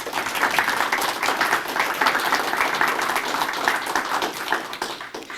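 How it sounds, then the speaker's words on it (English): An audience claps steadily at a Parchment City Commission candidate forum in the Kalamazoo area, a dense, even round of applause that holds at the same level for about five seconds before thinning slightly at the end. "let's give them all another round of applause"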